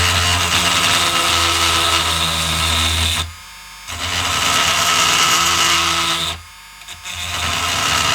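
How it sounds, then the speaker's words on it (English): A small electric drilling machine enlarges a hole in a Braun SE400 part, a steady high-pitched motor whine running continuously with two brief pauses where it stops and restarts. "to make it bigger I use again my small drilling machine"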